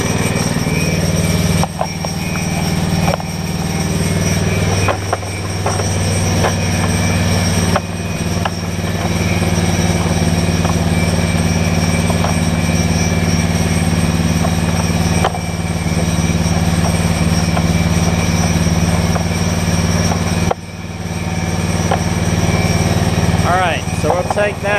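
A Generac 7500EXL generator with a bad low oil sensor idles with a steady, loud engine drone and rumble throughout, with a few brief dips in level and a voice heard over it.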